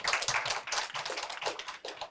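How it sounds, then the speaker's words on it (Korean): A small audience at a labor education lecture claps in a short, faint burst of scattered hand claps, somewhat distant and uneven. "박수 좀 쳐주세요."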